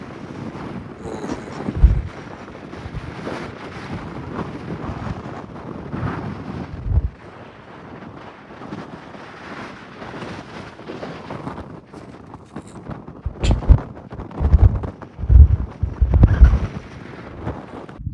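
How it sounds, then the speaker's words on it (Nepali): Cold wind gusts across a microphone on a mountain hike, a rough roaring rush that surges in heavy buffeting bursts toward the end. No one speaks. "एकदम हावा चिसो हावा चलिरहेको अवस्था छ"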